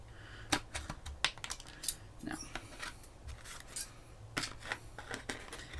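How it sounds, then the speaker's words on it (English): Scissors snip a V shape out of a cosplay piece, with a handful of sharp, irregular cuts and small rustles, close and quiet. "we cut this V out a little bit better"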